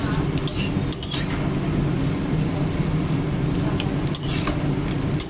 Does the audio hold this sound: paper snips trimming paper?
no